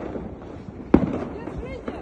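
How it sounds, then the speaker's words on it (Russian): One sharp firework burst pops at close range amid background noise and a continuous outdoor rumble, on a snowy Siberian New Year's night with fireworks going off everywhere; faint voices linger around it. "Салюты везде просто."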